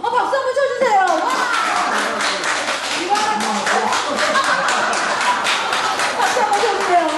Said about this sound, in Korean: 아, 박수 한번 쳐주세요.